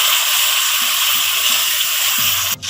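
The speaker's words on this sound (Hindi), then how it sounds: "यहाँ पे हम थोड़ा सा पानी शामिल करेंगे ताकि हमारे टमाटर अच्छे से सॉफ्ट हो जाएं" Water poured into a pan of tomatoes while cooking chana pulao, a steady rushing splash that runs loud and close, with faint low sizzling beneath it, then stops abruptly near the end.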